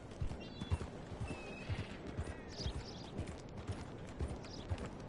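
Horse hooves pound in a fast galloping clip-clop rhythm in Red Dead Redemption 2, with a brief whinny and faint creaks over a low rumble, moderately quiet throughout.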